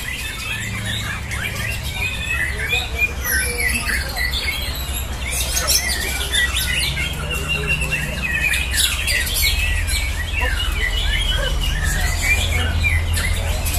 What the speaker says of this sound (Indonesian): Murai batu muda